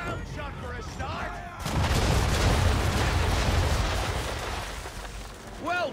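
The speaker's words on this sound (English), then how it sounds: "Bring around broadside, and when all guns are on target, call fire." Massed ship cannons fire a broadside in the naval combat of the video game Assassin's Creed 3, a loud, sustained rumbling barrage of booms that swells, holds for several seconds, then fades, with a brief voice at start and end.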